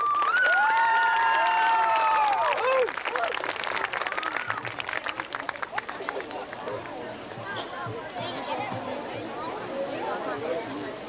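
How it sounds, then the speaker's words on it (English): A crowd at a 1989 high school homecoming football game cheers and claps as the spirit lifters come out, the applause rising after a sustained tone and continuing with crowd noise and some talk. "Let's give them a round of applause."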